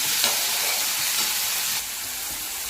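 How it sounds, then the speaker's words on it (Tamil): Tomato frying with sautéed onions in a pan for a spring onion kulambu, a steady loud sizzle with stirring noise that drops slightly in level partway through, no talking. "வெங்காயம் நல்லா வதக்காச்சுங்க இப்போ இதில் ஒரு தக்காளி போட்டுக்கலாங்க"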